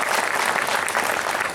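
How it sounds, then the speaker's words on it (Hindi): A seated spiritual gathering claps for itself at a groundbreaking ceremony in Jalgaon, a loud, dense, even wash of many hands, close and continuous throughout with no pauses. "अपने लिए ताली बजाओ"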